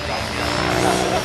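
A large radio-controlled Mikado helicopter with 813 millimeter blades roars with steady rotor wash and motor whine, loud and close, with voices shouting over it.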